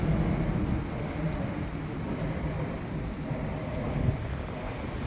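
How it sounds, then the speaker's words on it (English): Trains rumble through the old Brunel Thames Tunnel below a street, giving a steady, dull, low roar that fills the whole moment with no clear breaks. "you hear the trains, because trains go through this tunnel now"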